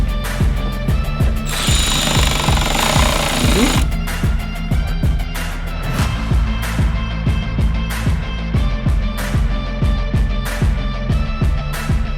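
An impact tool with a socket hammers rapidly and steadily while tightening a shock on a modified G82 BMW M4 Competition air suspension, loud and close, with a brief higher whine early on.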